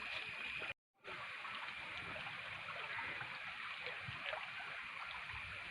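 Water flows in a small village stream with a soft, continuous rushing and trickling, faint and even, broken only by a brief moment of total silence near the start.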